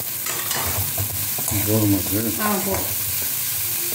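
Small shallots being sautéed and stirred in a pan for a lentil-dumpling tamarind curry, with a steady frying sizzle and stirring scrapes throughout and someone speaking briefly over it.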